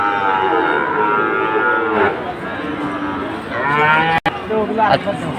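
Sahiwal cattle, bull calves and young stock, lowing at a busy cattle market in Cumilla, with long drawn-out moos that overlap people talking and the crowd noise around them.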